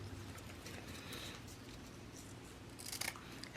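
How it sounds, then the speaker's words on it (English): Scissors cut through pretty pink and blue ribbon in a few crisp snips, close and quiet, with a sharper double cut near the end. "I just need to cut some ribbon"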